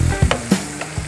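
Meat (nyama) frying in oil in a home kitchen, a steady crackling sizzle with a few louder spits and pops over roughly a second, close and fairly loud with no talking.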